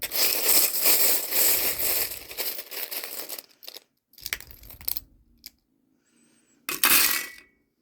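Tarot reading charms being shaken and cast, making a long dense jingling rattle followed by a few separate clinking bursts as the pieces scatter and settle, close and fairly loud.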